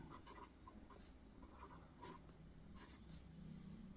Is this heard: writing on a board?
yes